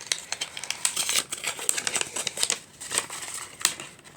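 Paper stickers are peeled off their clear plastic backing in a run of close, crisp crinkling and tearing rustles, irregular and fairly quiet, with no voices.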